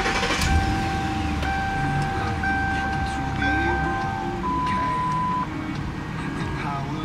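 A 2011 Ford Crown Victoria Police Interceptor's engine starting and settling into a steady low rumble, accompanied by sustained electronic chime tones from the car.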